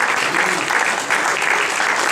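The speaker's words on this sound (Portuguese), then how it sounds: "As palmas louvam o Senhor Jesus Cristo agora." Members of a church congregation clap in praise during a worship service, a brief, dense burst of applause with a faint murmur of voices underneath.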